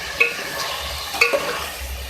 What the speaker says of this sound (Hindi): अब मैं इसमें ऐड करूँगी फ्राई किए हुए आलू। तो मिक्स करेंगे